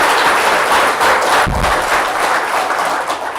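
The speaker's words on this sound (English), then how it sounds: "Yeah, give him a round of applause for that" An audience breaking into applause, a dense, steady patter of many hands clapping for a few seconds, with a brief low thump midway and the sound thinning slightly at the end.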